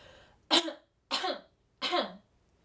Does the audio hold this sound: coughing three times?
yes